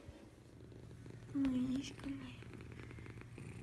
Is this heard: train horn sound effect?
no